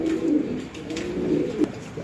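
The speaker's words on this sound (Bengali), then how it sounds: "এক পেয়ার কবুতর এগুলো তিরিশ হাজার করে কিনা লাগছে সর্বনিম্ন" Fancy pigeons at a pigeon farm give a low, throaty cooing that is close and clear and rolls in soft repeated pulses over about two seconds, with no voices.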